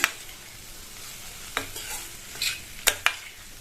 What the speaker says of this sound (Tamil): உருளைக்கிழங்க சேர்த்துட்டு இந்த மசாலாவோட நல்லா இந்த மாதிரி பரட்டி விட்டுக்கணும்